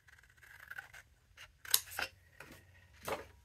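Scissors cut a paper piece for a handmade card, a series of quiet close snips and rustles at an irregular pace, with a few sharper cuts toward the end.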